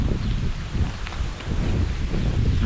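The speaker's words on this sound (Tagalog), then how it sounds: "Mahangin na naman," Gusty wind blows across an outdoor yard of dried-out kalamyas plants, a steady, rumbling buffet against the microphone that never lets up across the whole stretch.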